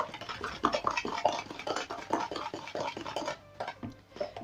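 Sugar being mixed in a container for carrot cake batter, a continuous close gritty scraping and stirring with rhythmic strokes, fairly soft and heard alone.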